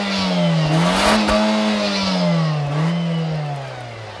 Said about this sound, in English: All right, 0 to 60 in the Nismo Juke.